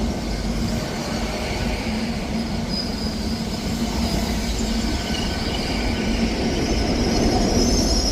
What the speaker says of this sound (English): Arriving in now is the delayed 10:51 LNER service from London King's Cross to Aberdeen. 800 113.